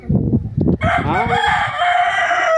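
A rooster lets out a loud, close, drawn-out crow right after a few short clucking calls.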